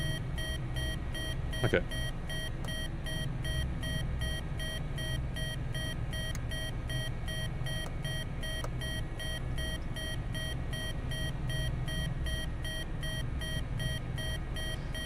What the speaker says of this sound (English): Don't really want that alarm going the entire time.